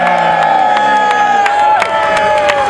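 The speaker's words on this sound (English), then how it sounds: "Can you cheer Nutter?" A children's crowd cheers loudly for cardboard-box costumed fighters at a Boxwars battle event, a dense, continuous roar of high young voices with shouts and whoops throughout.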